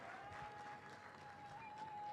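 Applause from an audience at a Pwani University youth week event as the Vice Chancellor is introduced, a steady broadband patter of clapping with a sustained tone running through it.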